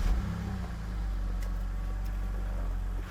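A BMW 330i engine runs after a restart, a steady, close, low rumble holding an even idle with a slight rise at the start.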